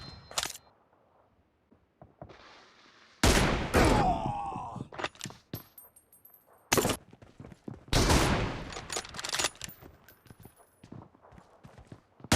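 Gunfire from an online shooter game erupts in several loud bursts, each a rapid rattle of shots with sharp single reports scattered between, the volleys separated by brief near-silent gaps.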